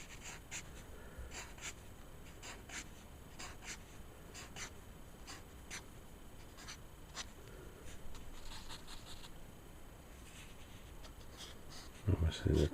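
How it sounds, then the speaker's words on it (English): A pencil sketches a creature's teeth on paper in quick, scratchy strokes that come in irregular bursts, fairly faint, ending with a louder rustle. "Drawing the teeth."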